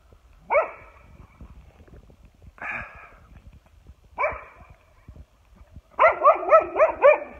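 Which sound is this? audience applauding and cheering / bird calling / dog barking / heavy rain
dog barking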